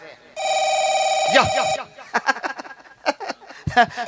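A telephone rings with a steady electronic trill for about a second and a half, followed by a person talking and a short chuckle.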